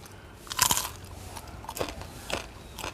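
Close, crisp crunching as someone eats sun-dried small gourami fish: several sharp bites and chews in an uneven rhythm, the loudest near the start, with no talk.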